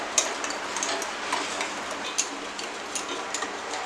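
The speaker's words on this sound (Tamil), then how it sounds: "இப்போ இதை நல்லா வந்து கலக்கி விடலாம். இப்படி கலக்கிட்டே இருக்கலாம், நல்லா கலங்கட்டும்." Homemade sugar-free dark chocolate mixture stirred in a pot on the stove, with a spoon tapping and scraping in irregular clicks over a soft, steady hiss.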